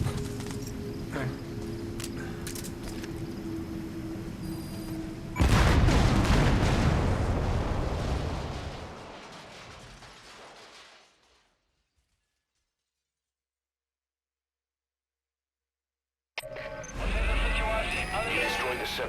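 Separator tank blowing up in Metal Gear Solid V: The Phantom Pain, a sudden loud broadband blast that rolls into a long decaying rumble and fades to silence, after busy game sounds and before noise resumes.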